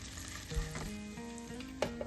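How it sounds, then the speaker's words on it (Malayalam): Potatoes and chopped green chillies sauté in an oily pan for a mushroom masala curry, a steady close sizzle with soft stirring and utensil clinks, and a brief sharp knock near the end. "ഇതിലേക്ക് ഒരു മൂന്നോ നാലോ പച്ചമുളക് അരിഞ്ഞ കഷ്ണങ്ങൾ ചേർത്ത് കൊടുത്ത് വഴറ്റി"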